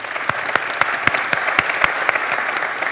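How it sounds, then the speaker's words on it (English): Audience applause greets the Virginia Beach mayor at a community forum, steady clapping throughout with sharper individual claps standing out, moderately close and loud, no talk over it. "Let's give him a round of applause."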